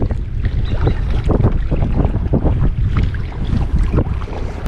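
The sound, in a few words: headwind blowing while kayaking on canal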